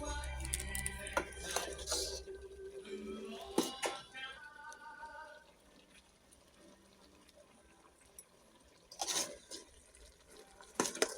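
Thai curry is ladled into bowls, with ceramic and metal clinks, scraping of the ladle and splashes of liquid at the start, a quieter stretch, then more clattering near the end.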